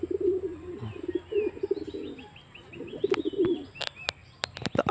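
A pigeon coos in low, rolling bursts at close range, with a gap between calls, then sharp clicks and faint chirps follow near the end.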